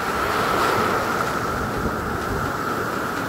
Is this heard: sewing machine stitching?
no